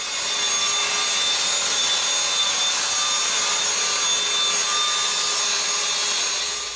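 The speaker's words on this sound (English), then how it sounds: "here's a variable speed. Variable speed is super smooth." A Festool TSC 55K 18V brushless cordless plunge track saw motor whines steadily at variable speed, a smooth, loud, close running tone with a faint high hum and no voices.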